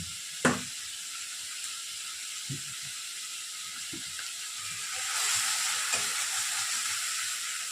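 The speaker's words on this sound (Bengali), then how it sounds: "ভালো করে মশলাটাকে কষিয়ে নিচ্ছি" Spice masala for doi rui fish curry cooks in a pan, a faint low sizzle with a few soft knocks and scrapes, rising to a brighter hiss near the end.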